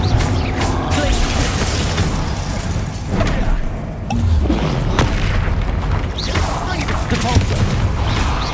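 Spell explosions in Hogwarts Legacy during a fight with a troll: loud repeated booms, crashes and mechanical clatter in quick succession, with shouting voices mixed in throughout.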